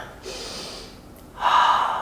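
Deep breathing during a yoga bridge pose: a long, airy inhale through the nose followed by a louder, fuller breath, close to the listener, with no talking over it.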